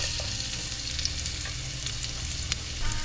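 Garlic sizzling and frying in olive oil in a pan, a steady close crackle with faint stirring clicks, no talking.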